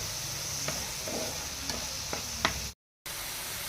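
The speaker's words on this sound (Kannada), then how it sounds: "ಈ ರೀತಿ ಡ್ರೈ ಎಲ್ಲ ಆಗೋವರೆಗೂ ಮಿಕ್ಸ್ ಮಾಡ್ಕೊತಾ ಇರ್ಬೇಕು" Onion, red chilli and masala are stirred in a hot pan until dry, giving a continuous soft sizzle with several sharp scrapes of a spoon against the pan.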